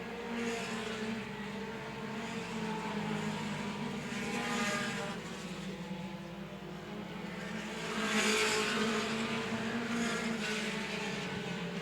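Mini stock race cars roar around a speedway oval, engines droning continuously with swells as cars pass, heard from a distance with a steady crowd-like wash behind them.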